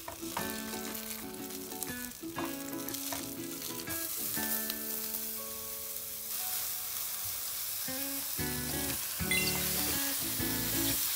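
King oyster mushrooms fry in a pan with a steady sizzle and occasional stirring, partly under loud background music.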